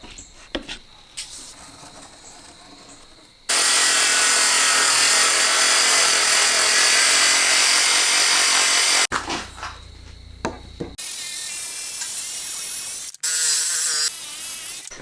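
A power tool cuts wood on a motorhome build, its loud continuous whine running for several seconds, then quieter handling, then a second stretch of cutting and another short burst near the end.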